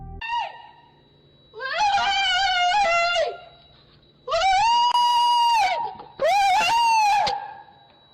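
A woman screaming outside at night on a doorbell camera in a residential street, three long, shrill, wavering cries separated by short pauses, close and piercing.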